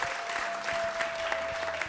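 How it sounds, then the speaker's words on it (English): Studio audience clapping on a Nigerian TV show, a steady patter of hands with a faint steady tone running underneath. "Muna, clap for them. Clap for them."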